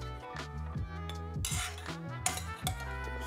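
Dishes clinking while tofu with sage butter is plated: light metallic cutlery and plate clinks, a few sharp taps and scrapes close by, with no one talking.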